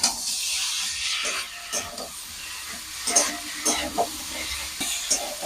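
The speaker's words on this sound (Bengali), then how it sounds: "এবার ভেজে রাখা পনিরগুলো দিয়ে দিচ্ছি" Fried paneer pieces being added to a sizzling pan of kabuli chana curry with poppy seed paste. A bright hissing sizzle carries through, broken by several stirring scrapes and soft plops. Close, with no talk.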